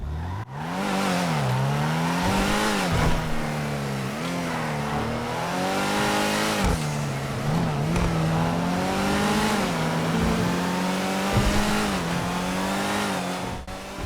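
An Ocelot Ardent retro sports car drives in GTA Online, its engine loud and close, revving up and down through repeated gear changes with brief tire squeals over a sustained run.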